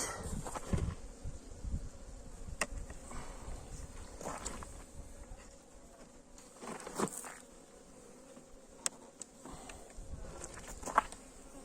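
Honeybees hum faintly inside a hive opened for a January winter check, a low steady drone with scattered knocks and rustles from handling the frames.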